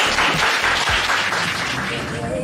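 Crowd at a wine master class event claps briefly, a burst of applause mixed with background noise and a voice nearby, fading slightly toward the end.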